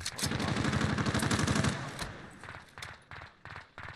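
Rapid bursts of gunfire from a Warzone match on Rebirth Island with an XM4 rifle: a dense, loud continuous volley followed by several shorter separate bursts, no talking.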